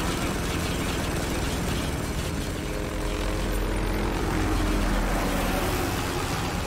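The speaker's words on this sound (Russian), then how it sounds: "Давайте сбить вертолет" Helicopter in the video game Spec Ops The Line, a loud sustained rotor and engine drone with low pulsing thump, steady and close throughout with gunfire-like game noise mixed beneath.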